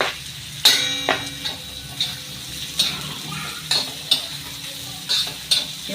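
Onion and green chilies in a masala frying in a pan for a spicy Maharashtrian chili-onion thecha, with steady close sizzling broken by repeated sharp clinks and scrapes of a spoon stirring against the metal pan.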